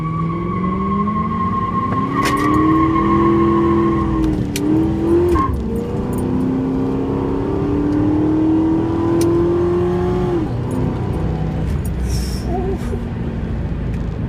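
Ford Mustang, just fitted with a new idle air control valve, accelerating hard down a straight road, its engine climbing loudly through the gears with rising pitch, a brief shift dip, then a long steady pull heard from inside the car.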